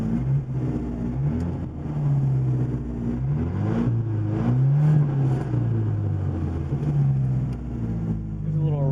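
A 1980 Porsche 924 Turbo (931) engine on a cold start, revved up and down close by in a loud, continuous run of rising and falling engine tones.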